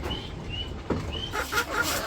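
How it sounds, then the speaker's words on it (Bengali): Chickens cluck on a village poultry farm at feeding time, with a few short calls rising over a soft, steady farmyard background at close range. "মুরগির এই যে খাবার দিতে এসে বসছি, এই যে খাবার দিতেছে"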